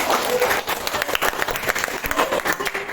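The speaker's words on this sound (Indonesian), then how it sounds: "kita sekali lagi tepuk tangan untuk teman-teman kita yang hari ini" Schoolchildren in a classroom clapping together in bursts, loud and close, with a few voices mixed in among the applause.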